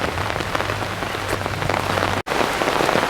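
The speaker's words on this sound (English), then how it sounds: "it's certainly bucketing it down now. The umbrella's holding up though" Heavy rain drums steadily on an umbrella along a rail corridor in Singapore, making a dense, loud, close patter with a brief dropout partway through.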